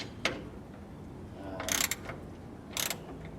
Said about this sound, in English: The next thing I'm going to do is remove these bolts that hold